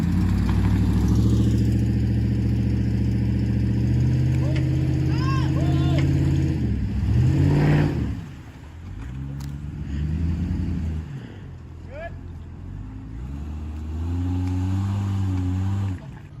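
Lifted Ram truck on 37-inch tires working off-road, its engine droning loud and steady with revving swells, a drop near the middle, then climbing again; people talk over it.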